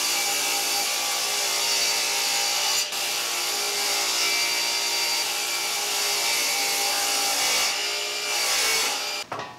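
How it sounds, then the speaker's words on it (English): Holes being drilled through a wooden vacuum forming box, a steady grinding and rasping of wood under the bit that runs almost unbroken, with brief pauses near the end. "we want to drill all those holes first"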